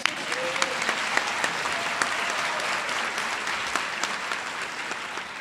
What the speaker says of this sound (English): To our graduating students, yes, a round of applause.